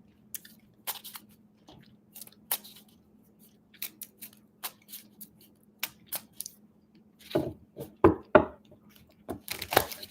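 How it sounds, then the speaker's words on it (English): Tarot cards being shuffled by hand, with a run of soft, crisp riffling clicks and taps at close range, growing denser and louder near the end; no talking. "Let me do this so you can see how I'm shuffling."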